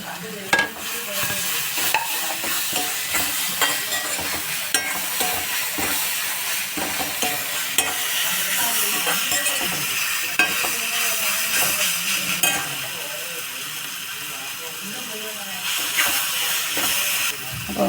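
Green chillies and tomatoes fry in a pan for a prawn gravy, a steady hiss and sizzle under repeated scraping stirs that run close and continuous, with a voice heard faintly now and then.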